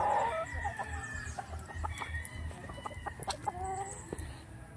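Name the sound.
chickens clucking and rooster crowing on farm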